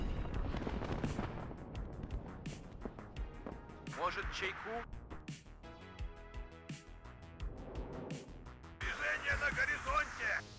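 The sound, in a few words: artillery fire in video game WARNO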